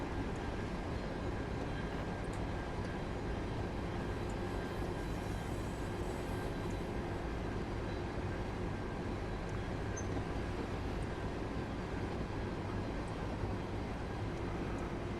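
Thameslink Class 700 electric multiple unit running in Train Sim World 3, a steady rumbling hum with faint high whine that carries on evenly and alone throughout, no talk.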